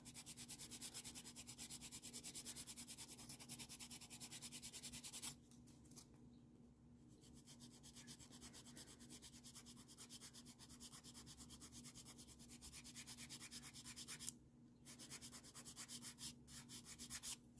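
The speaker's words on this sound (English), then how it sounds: "So I always start with filing my sides" Steady rapid rasping of a nail file working along the sides of a builder gel nail, close and continuous with two short pauses.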